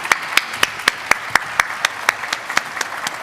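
Audience members at a health ministers' launch event clap in an even, steady rhythm, with crisp, close claps spaced about four per second and no voices.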